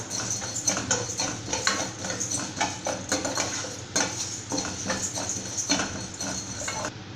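Spices dry-roast in a pan over a medium flame with no oil, giving a busy, continuous rattle and scrape as they are stirred and tossed against the metal, close and moderately loud.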